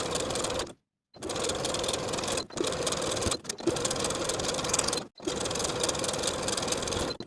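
A sewing machine edge stitches the hem of a knit dress with a stretch stitch. It runs in four steady, loud bursts, separated by brief silent pauses.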